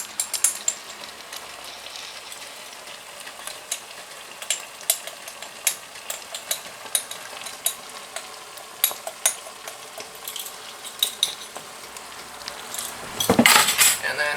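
A utensil stirs two tablespoons of paprika into a simmering pot, producing repeated close clinks and scrapes against the metal in an irregular rhythm, with no talking.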